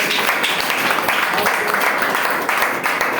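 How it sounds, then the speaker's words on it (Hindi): An audience claps steadily through a presentation hall for a team member being honored, a continuous wash of applause with no break. "एक बार उनके लिए तालियां"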